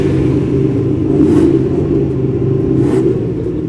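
A Mercedes-Benz SL sports car's inline four-cylinder engine rumbles and revs in a low, throaty drone, with two brief swells of higher-pitched intensity, loud and close.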